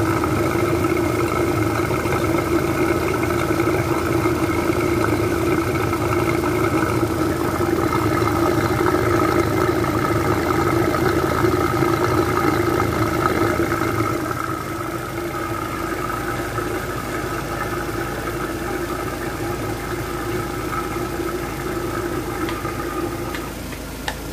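A fully warmed-up car engine idles steadily with a constant low hum and rumble, its tone shifting slightly partway through as the cooling fan is about to engage, with no talking.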